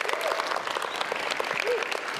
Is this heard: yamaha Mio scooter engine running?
no